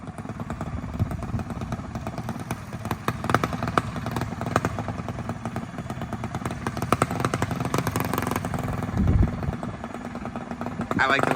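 A Predator 212 engine on a Manco Dingo mini bike idles and putters steadily with a rattling, uneven chug, occasional thumps, and faint voices in the background.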